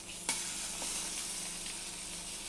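Turbot fish sizzles in a frying pan just after the burner is switched off, a steady close hiss of hot fat with a brief clink as the fillet is turned.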